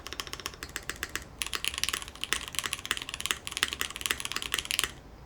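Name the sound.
typing on a TOFU Redux V2 mechanical keyboard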